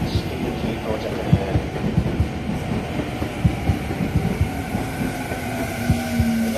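A Tokyu 5050 series 4000-number train pulls into Futamatagawa station, its wheels clacking rhythmically over rail joints and a steady loud rumble running throughout.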